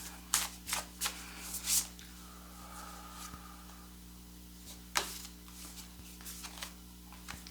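A deck of tarot-style cards shuffled by hand during a reading, with several crisp riffling bursts near the start, a softer sliding stretch, then another sharp snap and lighter shuffles, close and clear without speech.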